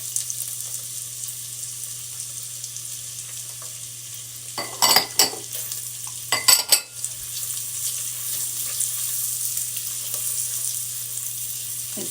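Chopped scallions and celery sizzle steadily in melted butter in a pan, a soft continuous hiss with a few sharper clatters of stirring around the middle, then the sizzle carrying on alone.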